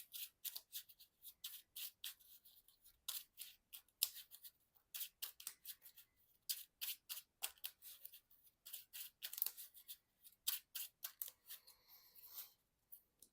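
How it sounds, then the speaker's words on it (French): Marvel Champions cards are shuffled by hand in quiet, repeated bursts of crisp riffling and slapping, close and alone with no talk. "Donc je remélange bien le deck."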